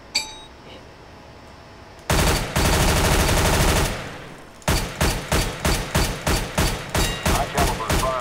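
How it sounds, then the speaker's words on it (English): Gunfire in Counter-Strike: Global Offensive: after a quiet start, a long loud automatic burst rattles for about two seconds, then a string of sharp, evenly spaced single shots cracks close by. "Fire in short controlled bursts."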